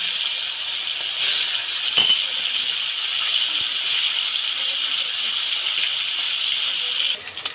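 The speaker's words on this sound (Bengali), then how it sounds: "তেল গরম হয়ে গেছে, নুন আর হলুদ মাখানো মাছ তেলের মধ্যে দিয়ে এদিক ওদিক করে ভেজে নেব।" Amudi fish coated in salt and turmeric sizzles in hot oil, a steady loud bright hiss and crackle throughout, with a brief clink near the middle and a slight drop at the end, no talking.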